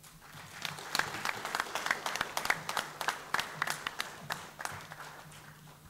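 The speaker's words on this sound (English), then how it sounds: "another round of applause to Kaviru Pereira" Audience applause at a college MOU signing between St. Benedict's College and Wesley College, a steady round of many hands clapping with crisp individual claps standing out, moderately close and sustained throughout.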